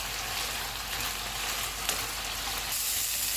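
Chicken pieces for homemade shawarma frying in a pan on a stove turned to full flame, a continuous loud sizzle with faint stirring scrapes, close and steady with no talking.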